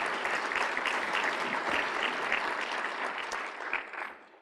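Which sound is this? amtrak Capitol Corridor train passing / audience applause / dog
audience applause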